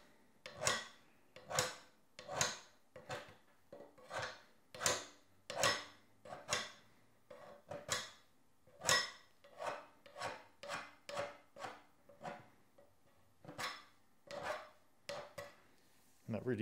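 A homemade hand scraper is dragged across steel clamped on a workbench, giving a faint, steady series of short rasping strokes about one per second, each a dry scratchy scrape, with no voices.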